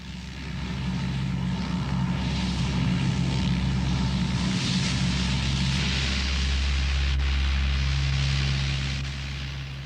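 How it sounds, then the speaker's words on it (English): A giant Hercules transport aircraft lumbers down the runway for takeoff on a rescue flight in Bangladesh, its propeller engines a loud, steady, droning roar that rises in and holds before easing slightly at the end. "As the giant Hercules lumbers down the runway for takeoff"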